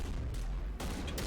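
Gunfire in Mass Effect sounds on the Feros mission, rumbling low shots in a steady barrage with two sharper bursts standing out, with no voices present.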